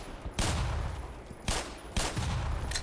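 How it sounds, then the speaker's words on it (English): Video game Black Mesa: three loud, sharp gunshot-like blasts as mines are shot and blown up, each with a short ringing tail, separated by brief quieter gaps. "There, that blew up a lot of mines for us."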